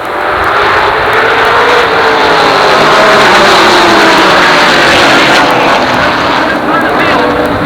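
Late model stock cars roar off the green flag at Jennerstown Speedway in a 1988 feature race, a dense, continuous engine drone from the pack that holds steady throughout, with an announcer talking over it.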